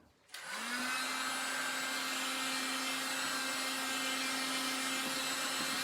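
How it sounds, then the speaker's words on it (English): A heat gun starts up and then blows hot air in a steady, loud whine, running alone without pause near a heat transfer on a garment. "I gotta be careful with this heat gun."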